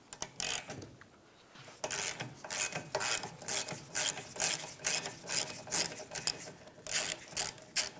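Rhythmic rasping ratchet strokes, a short burst and then a long run of repeated clicks, as a 15mm nut is removed on a 1998-2002 Lincoln Navigator, close and clear with no talking.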